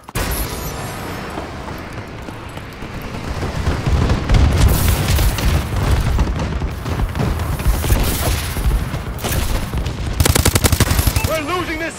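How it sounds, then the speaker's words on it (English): Friendly bombing-run explosions in Call of Duty Advanced Warfare, Recovery map, Domination mode: a long rumbling stretch of booms and crackling gunfire builds and swells, ending in a rapid burst, with game announcer voices heard. "Friendly bombing run clearing the way."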